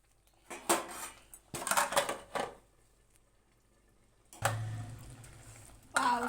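A metal lid goes onto a pan of paneer gravy in a home kitchen. Sharp clinks and clatters come in a few bursts, then a longer low rattle as the lid settles, then another clink at the end. Close and fairly loud, with no talking.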